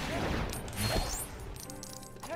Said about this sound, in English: Shooting spells all over the place.